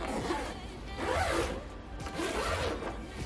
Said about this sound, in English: I guess usually you don't unzip while it's standing up.